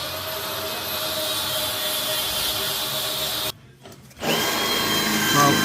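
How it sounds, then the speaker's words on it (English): A power tool grinding and drilling out spot welds on a VW T4 van chassis, a loud continuous high-pitched whine that stops briefly for about half a second before resuming, close and harsh. "welding the spot welds off of that side"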